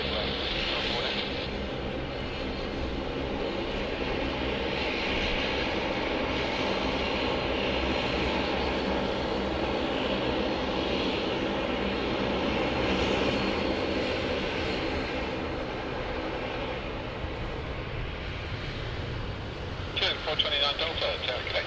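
An airliner approaches to land on runway 16 right at Sydney Airport, a sustained distant engine roar that swells gradually, heard under steady radio chatter and a commentator's voice.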